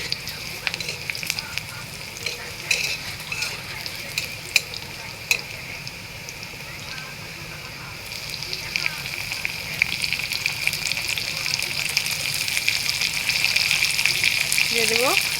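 Ingredients fry in a pan with a continuous sizzle and scraping stir strokes, growing louder and denser toward the end, with occasional clinks of a utensil.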